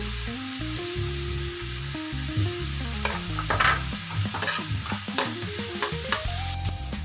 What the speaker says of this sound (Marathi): आपल्या भाज्या इथं परतलेल्या आहेत.